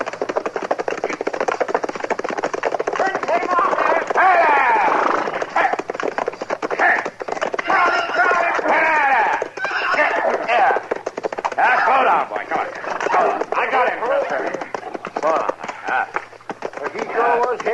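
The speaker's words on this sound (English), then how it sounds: "That's a runaway horse, Chester." A runaway horse gallops in a fast, rapid rhythm while people talk over the clatter, the hoofbeats continuing under the voices.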